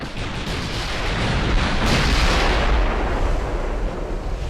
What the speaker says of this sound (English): Looks like our casemate guns are shooting at